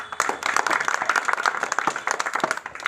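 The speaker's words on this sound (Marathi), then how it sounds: "टाळ्या वाजवा" An audience at a talk breaks into a burst of dense, uneven clapping that lasts a few seconds, fairly close and loud, with faint voices mixed in.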